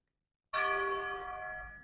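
A church bell strikes once after a brief silence, a clear, ringing tone with rich overtones that slowly decays, alone with no talking.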